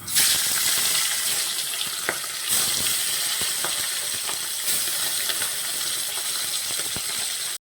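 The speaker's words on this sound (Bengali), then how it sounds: "মাছগুলো এবারে ভেজে নেব।" Fish frying in hot mustard oil in a kadai, giving a loud, continuous crackling sizzle up close, with occasional sharp pops and spatters throughout.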